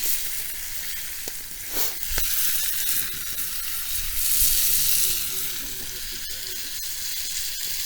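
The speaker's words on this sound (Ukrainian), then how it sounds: "Тепер даємо перець болгарський і помідор. Трошки засильний огонь." Bell pepper and tomato frying over a strong fire in a wild forest cabin setting; a loud, continuous close sizzle with occasional stirring scrapes and a few faint clicks, no talk.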